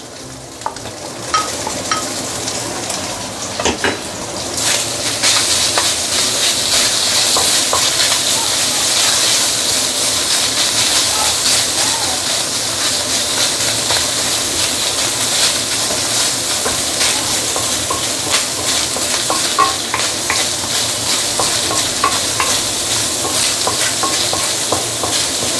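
Marinated minced pork sizzles and fries in a pan with crispy bits, a loud steady hiss with stirring scrapes running throughout.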